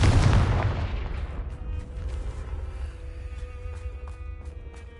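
Confringo blasting spell in Hogwarts Legacy, a single loud explosive boom at the start that rolls into a long decaying rumble, followed by quieter scattered debris crackles and ambient game tones.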